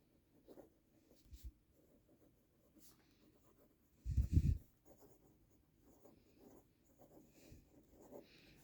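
A fountain pen filled with Private Reserve Black Cherry ink writing on paper, faint close scratching strokes with one louder brush of contact midway, very quiet overall.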